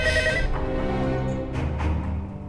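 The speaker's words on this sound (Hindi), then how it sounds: "फोन बज रहा है, कोई उठाने वाला नहीं है।" A telephone rings in a large house, a bright electronic ring repeating a few times, fairly close and clear with no talk over it.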